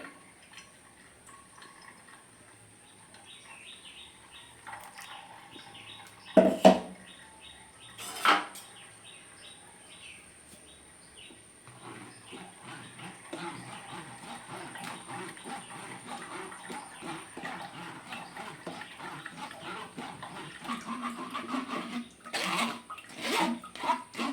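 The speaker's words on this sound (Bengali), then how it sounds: "এই ছাঁকুনির সাহায্যে আমি এই জুসটা ছেঁকে নিচ্ছি" Watermelon juice is poured through a strainer, a faint trickle and pour of liquid nearby with a couple of sharp clinks of utensils early on, the flow growing louder toward the end.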